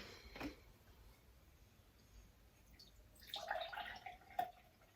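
Kombucha strained through a small sieve trickles and drips into a container: a faint drip early on, then a brief soft pour of liquid near the end, all quiet and close.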